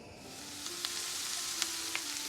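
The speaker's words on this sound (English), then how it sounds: "So you just take your sausage and I'm going to chop it up and cook it until it is browned completely." Sausage frying in a pan, a steady quiet sizzle with a low hum running beneath and a few faint sharp crackles and pops, no voices.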